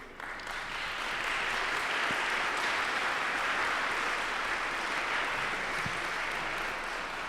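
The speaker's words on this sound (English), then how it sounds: "Applause for him." Audience at an organ series anniversary gala applauds a committee member, a broad continuous roar of clapping that swells at the start and holds steady and full to the end.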